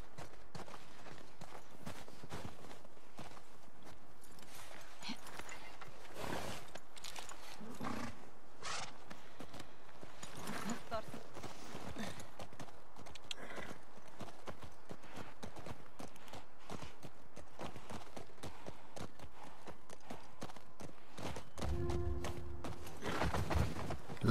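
Horse hooves clip-clopping in The Last of Us Part 2, a faint steady trot of soft hoof beats over a quiet ambient background, with a brief louder burst near the end.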